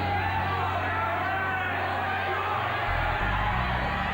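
Dense boxing crowd at York Hall in Bethnal Green, a steady loud roar of cheering and shouting that fills the whole clip with no pauses.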